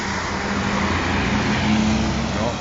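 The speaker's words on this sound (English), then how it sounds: "there goes the garbage truck" Garbage truck driving past on a road after a Thanksgiving Day nor'easter snowstorm, a steady low engine rumble with road noise holding at moderate level throughout, no talk.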